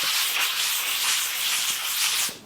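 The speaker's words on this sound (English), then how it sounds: "This is a fine sanding block, so it's not too coarse, it's not too aggressive." A fine sanding block rubbing down a freshly plastered wall, a steady close-up scratchy hiss with faint back-and-forth strokes, heard alone and cutting off near the end.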